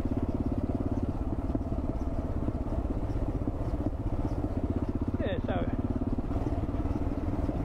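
A KLR650 and a DR650 motorcycle idle steadily at a campground with a continuous thumping engine drone; a voice briefly speaks near the end.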